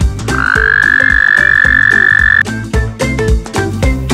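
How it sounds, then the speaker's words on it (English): A desert toad calls loudly and close, with one long sustained trill followed by a quick run of rhythmic, pulsing croaks. "Toad."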